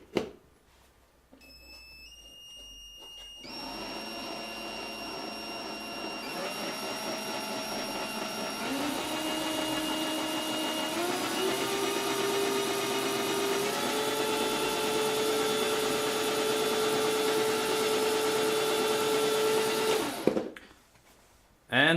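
A DIY variable-speed tumbler ball mill driven by a cordless drill whirs steadily for about seventeen seconds, its motor pitch climbing in steps as speed is raised, then cutting off abruptly.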